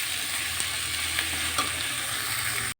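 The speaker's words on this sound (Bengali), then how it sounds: "আলু পেঁয়াজ দিয়ে নাড়াচাড়া করে লঙ্কাও চিড়ে দিয়েছি।" Potatoes, onions and slit green chilies frying in a pan while being stirred, a steady close sizzle with a few soft scrapes of the spoon and no talking.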